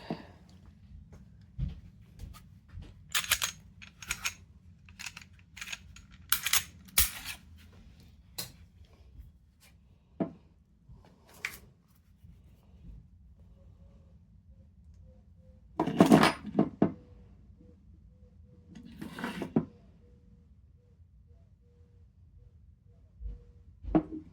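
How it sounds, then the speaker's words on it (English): Fitting an FDE slide onto a Smith & Wesson M&P polymer pistol frame with an Apex trigger: a quiet scatter of sharp plastic-and-metal clicks, taps and scrapes, several clustered bursts and a longer rattling slide near the end, close up with no talk. "Let's go ahead and add the slide."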